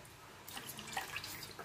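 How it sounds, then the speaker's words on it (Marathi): A mango is washed under cold running tap water in a home kitchen, making a brief, faint patter and splash of water. "थंड पाण्याने स्वच्छ आंबा धुवून घ्यायचा आहे."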